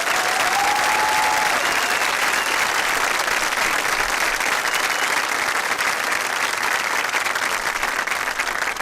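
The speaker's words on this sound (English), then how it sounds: "can we give them a round of applause?" A large convocation audience applauds the kids in a sustained, dense round of clapping that holds steady throughout, with a faint tone briefly audible near the start.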